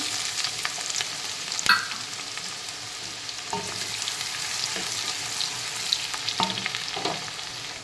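Onions sizzle steadily in hot oil with cumin and mustard seeds for a stuffed brinjal curry, a continuous bright frying hiss broken by a few sharp clinks and scrapes of a stirring spoon, close and alone.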